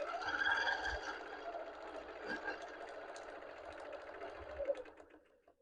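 A Bernina sewing machine stitching in free-motion quilting with a ruler guide, giving a steady, fast mechanical whir that runs unbroken at a soft level before tapering off.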